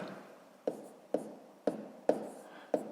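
Someone writing numbers by hand for column multiplication, with about five sharp pen taps and strokes on paper at a slow uneven rhythm, close and quiet.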